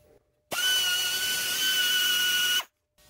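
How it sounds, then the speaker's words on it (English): A carbide rasp on a power tool grinds cast aluminum on a bearing retainer, a close, loud, steady high-pitched whine lasting about two seconds that starts and stops abruptly. "Just going to use a carbide rasp for it."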